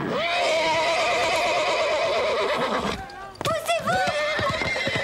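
A horse neighs and whinnies loudly in a stable yard as it resists being loaded into a truck and threatens to rear, with several close, shrill calls and some hoof clatter, the sharpest bursts near the end.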